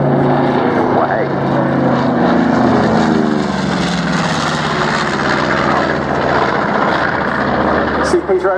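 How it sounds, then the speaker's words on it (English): A propeller bomber with bomb bay open flies past at the Dunsfold Wings and Wheels airshow, a loud steady engine drone throughout with a commentator talking over it. "See Peter opening the bomb bay as he comes past there again."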